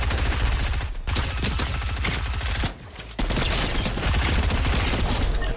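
Rapid automatic SMG fire in Fortnite, a dense continuous burst of loud close shots that breaks off briefly near the middle before resuming just as fast.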